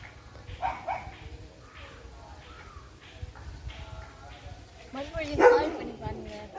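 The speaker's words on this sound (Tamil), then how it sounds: "இவன் நிறைய நாய் சவுண்டு கேட்டது" Pet dog barking and yipping in short bursts at close range, with people talking over and between the barks indoors.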